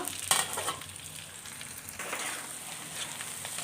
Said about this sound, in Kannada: ಬದನೆಕಾಯಿನ ಒಂದು ಹತ್ತು ನಿಮಿಷ ಎಣ್ಣೆಲಿ ಫ್ರೈ ಆಗಲು ಚೆನ್ನಾಗಿ ಬಿಡೋಣ